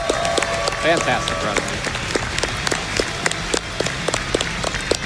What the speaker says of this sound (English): Can we get another round of applause for Shredberg?